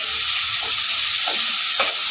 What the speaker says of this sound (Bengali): হালকা একটা নেড়ে চেড়ে নিয়ে ভেজে নেবো হালকা করে।